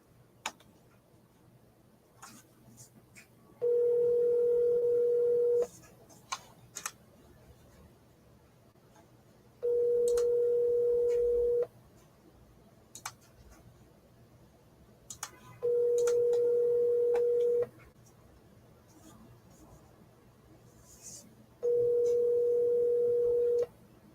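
Four steady busy-signal tone bursts of about two seconds each, evenly spaced, sound during a broker outreach phone call, with faint clicks and line noise between them.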